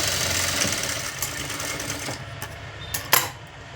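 A sewing machine stitches piping onto blouse fabric, running as a steady close mechanical whir with rapid needle clatter that eases off toward the end, with no voices.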